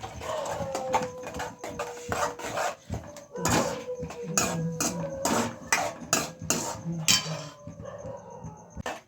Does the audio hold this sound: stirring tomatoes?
yes